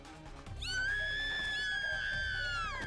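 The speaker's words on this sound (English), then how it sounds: "Freaking high pitched Bloody Mary scream." A high-pitched, sustained shriek from a fighter character in Street Fighter 2, piercing and loud, holding steady for about two seconds before tailing off over faint game sounds.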